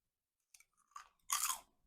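Dehydrated dinosaur kale chips being bitten and chewed, a few sharp, close crunches building to one louder crackling bite, with no talk.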